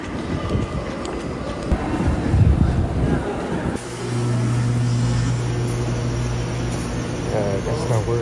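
Onboard a moving passenger train, a steady low rumble and rattle of the carriage fills the scene, shifting to a smoother droning hum partway through, with faint background voices.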